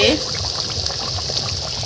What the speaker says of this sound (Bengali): আর দেখো কেমন টক বক করে ফুটছে